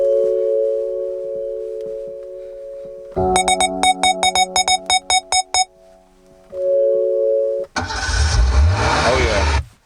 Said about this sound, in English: Obviously I always put sound effects in my music, so there's a car in there signaling to slow down